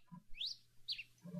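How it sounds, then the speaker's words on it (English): Two or three bright bird chirps in the CrazyCraft mod pack game, each a quick rising tweet, sound softly over a faint low hum. "I hear birds."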